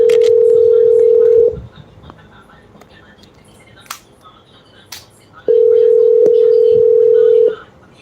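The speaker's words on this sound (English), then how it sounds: "I try to get Kim on the phone." A steady telephone dial tone plays loudly for about a second and a half, gives way to quiet room noise with a few clicks and taps, then returns for another two-second stretch.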